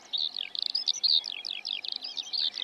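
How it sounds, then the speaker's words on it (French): A Eurasian skylark sings in open fields, a fast, continuous run of high warbling and trilled phrases, clear and fairly close, with no other voices. "Vous apercevez une alouette des champs"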